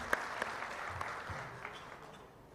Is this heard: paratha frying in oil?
no